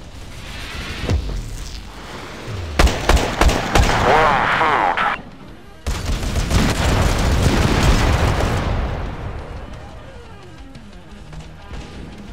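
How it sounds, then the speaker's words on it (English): Grenade blasts in the mobile shooter Tacticool: loud booming explosions with rapid popping bursts and a long rumbling tail, mixed with gunfire, up close and dense across the whole stretch. "I'm just throwing out grenades just to reload."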